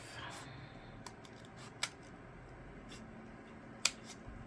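Scissors snip through card while a specimen card is made, giving a couple of sharp, faint cuts at close range against a quiet room.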